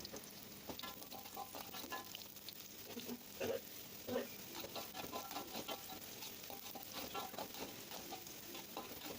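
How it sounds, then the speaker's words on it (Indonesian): Tempeh frying in hot oil for a packed breakfast, a dense continuous sizzle and crackle with scattered pops and a couple of louder stirring knocks, close and clear. "Nah ini aku goreng dulu tempenya"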